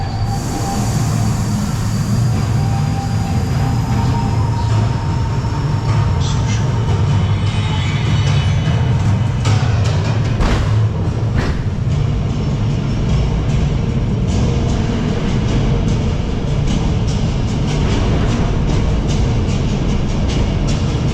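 A Universal Studios Hollywood studio tour tram rolls along with a steady loud rumble, rattling clicks and sharp wheel squeals, the noise of the ride heard up close and without talk.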